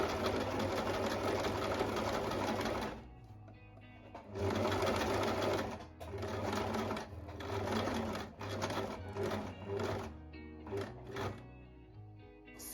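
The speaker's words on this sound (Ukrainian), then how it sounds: "Все, я прошила перший ряд." A sewing machine stitches cord for a shell-shaped handmade bag, running in long steady bursts with short pauses and a final series of brief stop-start runs, close and clear with no talk.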